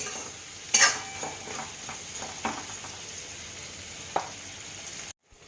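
Bitter gourd and onion sautéed with salt and spices in a pan: a soft continuous sizzle with a few louder scrapes and clinks of a spoon against the pan, then a brief cut to silence at the end.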